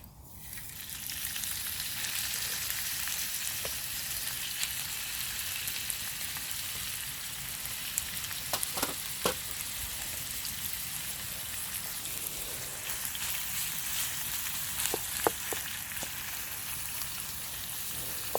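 A pan of roadkill goose stroganoff sizzles and fries steadily and close. The hiss is continuous and dense, with a few faint pops or taps over it and no talk.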